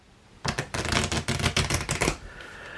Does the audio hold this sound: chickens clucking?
no